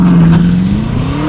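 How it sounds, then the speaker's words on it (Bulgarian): A BMW M850i engine held at high revs against the brake for launch control, a loud, steady, near drone that climbs slightly in pitch over a brief moment. "С левия крак задържаме спирачката, с десния вдигаме оборотите"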